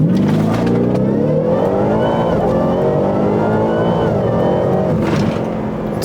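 A supercharged Ford Raptor R with a Whipple blower accelerates hard in four-wheel drive, its engine rising in a loud, close, sustained roar that climbs in pitch for several seconds before easing off.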